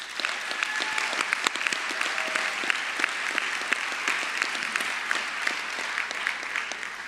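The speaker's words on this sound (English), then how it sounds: "I'd like to take a moment now to give another round of applause to your" Graduation audience at the John J. Duggan Academy 2022 ceremony applauding parents and families, a steady, dense roar of many hands clapping in a large room, sustained and even throughout with no voices on top.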